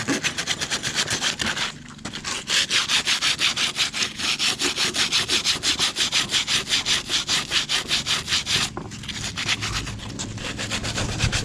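Rapid rhythmic rasping of 100-grit wood sandpaper scrubbing back and forth on plastic, close and steady, pausing briefly twice before continuing.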